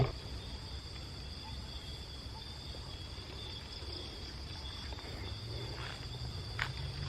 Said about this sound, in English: it's only the sounds of the crickets, the animals, no other human life